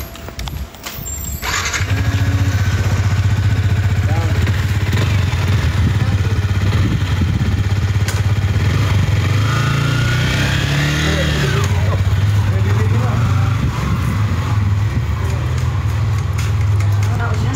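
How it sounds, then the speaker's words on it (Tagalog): After a brief clatter, a motorcycle engine starts up and settles into a loud, steady, close idle. Voices talk over it throughout. "Marunong ka mag-motor, Neg?"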